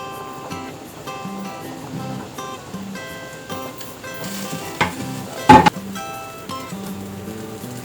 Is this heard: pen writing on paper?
no